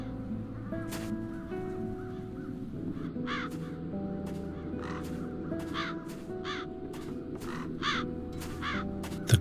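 A flock of crows caws repeatedly in The Dark Eye video game, harsh calls in uneven bursts over a steady low droning game ambience, some close and loud, others farther off.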